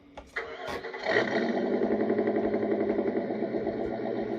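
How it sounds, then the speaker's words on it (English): A simulated engine sound from a Tamiya MFC-02 unit in a Ford F350 4x4 RC truck is cranked a few times, catches, and settles into a steady, high buzzing drone that runs on without pause. "and to restart the engine, hold this"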